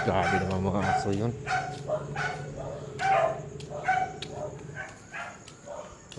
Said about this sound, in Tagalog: Grabe naman mga aso yun.